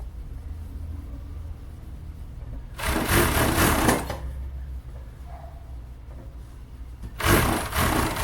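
A sewing machine stitching the side seam of a plus-size swimsuit, running in two loud whirring bursts separated by a quieter pause, close to the listener with no talking.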